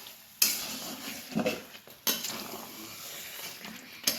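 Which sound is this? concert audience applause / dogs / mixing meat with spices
mixing meat with spices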